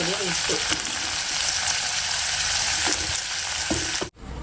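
Tomatoes frying in oil in a home kitchen, a loud continuous sizzle with occasional stirring scrapes, cutting off abruptly near the end.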